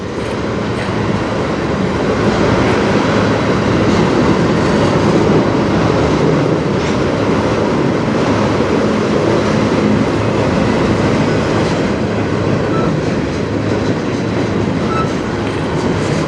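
A slow freight train rolls steadily past on the Strathroy Subdivision near Sarnia, a loud, continuous rumble of railcars and wheels with faint clickety-clack throughout, close by and with no talking.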